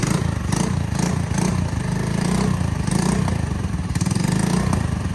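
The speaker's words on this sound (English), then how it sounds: "just heard his bike make noise for the first time since he put the stock exhaust back on it" Honda Navi motorcycle running with its stock exhaust and baffle still in, a steady, loud mid-pitched engine drone with a rough, slightly clattery pulse, close and continuous throughout.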